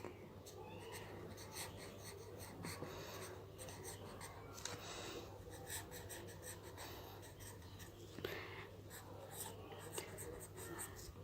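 Pen or pencil scratching on paper while answers are written by hand, light irregular strokes running steadily throughout beside a constant low hum.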